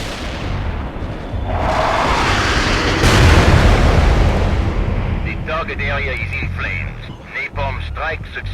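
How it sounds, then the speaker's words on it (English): Napalm strike explosions in the real-time strategy game World in Conflict, a loud sustained roar of blasts and fiery rumble building through the middle, with radio-style voices talking over the end. "Call in some napalm on those bastards."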